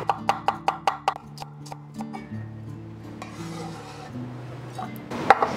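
Baked salted egg yolks crushed with a small grinding machine in a kitchen, opening with a quick run of sharp rhythmic clicks, then a steadier grinding rub and a final clatter.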